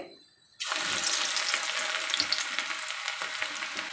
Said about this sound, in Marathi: यामध्ये आता आपल्याला घालायचं आहे वन फोर्थ कप एकदम बारीक चिरलेला लसूण